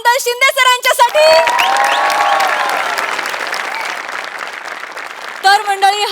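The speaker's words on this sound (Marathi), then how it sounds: "एकदा जोरदार टाळ्या झाल्या पाहिजेत" A studio audience at a Marathi television comedy show breaks into loud, sustained applause with some cheering, which swells and then fades under an announcer's voice at the start and end.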